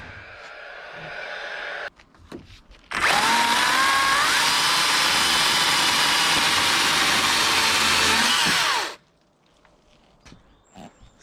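A power drill drives screws into the wooden top beam of a garden fence, one loud sustained whirring burst of about six seconds, close by, with quieter handling noises before and after.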